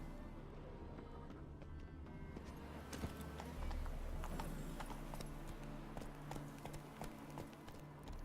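Geralt's horse Roach gallops in The Witcher 3, a rapid, steady drumming of hooves, close and continuous and fairly quiet, under low game ambience.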